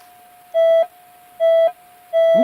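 A Minelab E-TRAC metal detector sounds over a silver signet ring. Three clear, evenly spaced beeps rise above a faint steady tone, each lasting about a quarter second.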